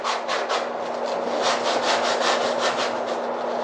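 Tin foil scrubbing over rusty metal, a rapid rhythmic back-and-forth rasping at close range, each stroke gritty and rough, steady and alone without talk.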